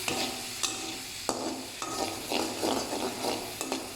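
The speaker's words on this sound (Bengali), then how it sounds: "চিংড়ি মাছগুলো ভেজে নেব। এগুলো দিয়ে আজকে শাপলা রান্না করব। এখন ভালো করে নেড়ে নেব।" Prawns sizzle as they fry in a pan, with steady frying hiss broken by repeated scraping strokes of a spoon stirring them, close and fairly loud throughout.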